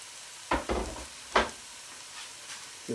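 Garlic and red chillies frying in hot oil in a pan, a soft steady sizzle beneath a few sharp knocks and scrapes of a spoon stirring, no voices.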